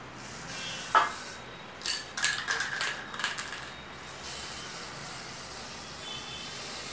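A metallic gold spray paint can is shaken by hand before decorating a clay pot, giving a sharp rattling tap followed by a quick run of close, clattering bursts over a quiet room hiss, with no talk.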